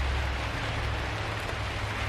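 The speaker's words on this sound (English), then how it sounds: "Summer rain, but it's still kind of cool." Steady summer rain falling outdoors, a soft, even hiss of drops with a low rumble underneath, fairly quiet and unbroken throughout.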